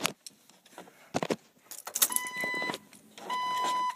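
A bunch of car keys jangles in sharp metallic bursts as a key is turned in the ignition, then a steady electronic chime rings out with faint clicks in between.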